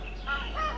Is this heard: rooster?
yes